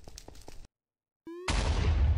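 A sudden loud explosion in a modded Minecraft game during a Wither boss fight, bursting in after a brief silence and a short rising tone, then leaving a dense, rumbling roar that fades slowly.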